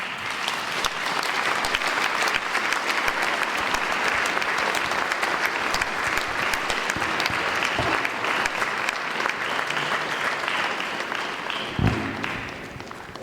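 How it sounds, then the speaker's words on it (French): Sustained audience applause at a French-speaking gathering after thanks to an honoured man, a dense steady wash of many hands clapping for over ten seconds, fairly close, with a brief thump near the end. "on peut l'applaudir pour tout ce qu'il a fait pour nous"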